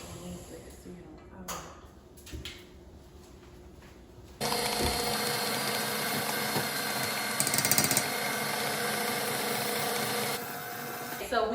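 An electric mixer beats butter, sugar and egg whites in a bowl. After a quieter stretch with a voice, a loud, steady motor whir starts abruptly, runs for about six seconds and then stops.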